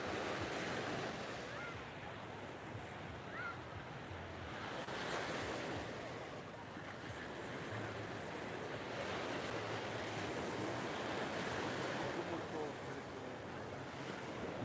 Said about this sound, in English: We are currently walking on the beach in Nha Trang in Vietnam